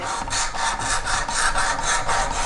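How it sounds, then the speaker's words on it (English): A knife blade is drawn in quick, even strokes across the abrasive of a WorkSharp Precision knife sharpener, a close rhythmic rasping scrape repeating about four times a second. "they say you should count your strokes, even strokes on both sides of the knife."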